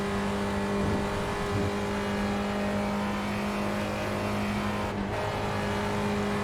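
A Spec Racer Ford's engine in the iRacing video game drones steadily at Spa-Francorchamps, with light throttle blips barely changing its tone, constant and even, with no talk.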